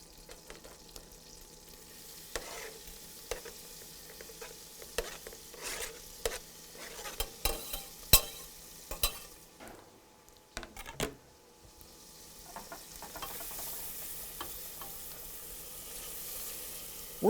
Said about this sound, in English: our butter is hot, so we're going to drop the onions on top of it